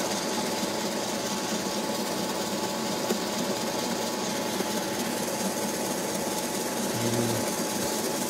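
A bread maker running on high to roast Ethiopian Yirgacheffe coffee beans, giving a steady mechanical whir and rattle of tumbling beans that holds constant and alone throughout.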